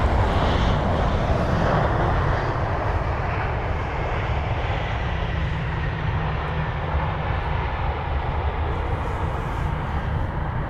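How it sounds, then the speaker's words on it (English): An Airbus A380 on approach into London Heathrow gives a loud, steady jet roar that holds broadband and unbroken throughout, close and continuous with no voices. "The Singapore and the Emirates 380 will both be arriving one after the other."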